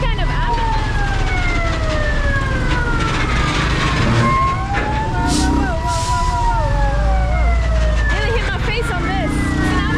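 An ambulance siren wails through loud, busy traffic in Vietnam, its tone sweeping up and down over heavy engine and road noise while people talk nearby.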